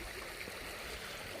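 Water streams and trickles steadily at a natural spring near Mangla Dam, a continuous close rushing flow with no voices.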